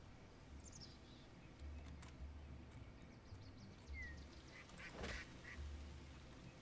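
Ducks quacking in the video game Hytale, several short honking calls scattered over a steady low ambient drone, moderately faint and without any talk.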